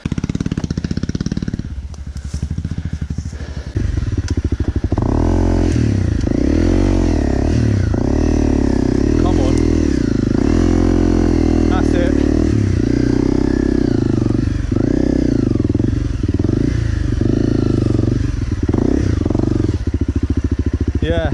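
Honda CRF 250L dirt bike ridden through woods, its single-cylinder engine droning close and loud throughout, with rising and falling revs and rattling clatter as the rider works the throttle.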